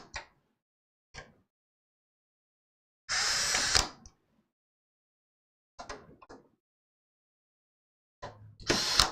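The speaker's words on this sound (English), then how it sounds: "we're going to get the screws put in here." Short bursts of a small screwdriver or power tool whir as screws go into a PC power supply during a retro 1980s-style computer build, with a few clicks and quiet gaps between them.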